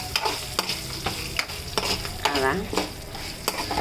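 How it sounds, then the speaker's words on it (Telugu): Roasted peanuts fry in oil while a spoon scrapes and stirs them in quick repeated strokes over a steady sizzle, close and fairly loud, with a brief spoken word. "అవి కూడా నూనెలో కొంచెం వేసేస్తే బాగుంటుంది."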